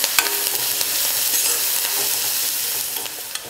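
Onions sautéing in a pan as they are stirred, a steady bright sizzle and crackle with occasional scraping of the spatula, close and continuous with no talk.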